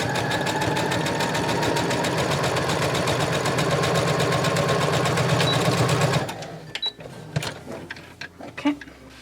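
A sewing machine stitches a plain seam in fabric with a rapid, steady mechanical whir for about six seconds, then stops, leaving scattered handling clicks and rustles.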